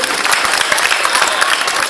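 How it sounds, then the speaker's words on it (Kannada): An audience claps steadily and loudly for children performing yoga asanas at Srikrishna Anatha Ashram, a dense continuous patter of many hands with no voices. "ಚಪ್ಪಾಳೆ ಜೋರಾಗಿ ತಟ್ಟೋದ್ರ ಮೂಲಕ ಅವರಿಗೆ ಪ್ರೋತ್ಸಾಹವನ್ನು ನೀಡ್ತೀರ ಅಂತ ಕೇಳ್ಕೊಳ್ತೀನಿ"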